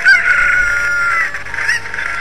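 A cucco chicken in Zelda Ocarina of Time on Death Mountain lets out loud, shrill clucking squawks. There is a burst at the start, a longer cry, and another squawk near the end, with no talk.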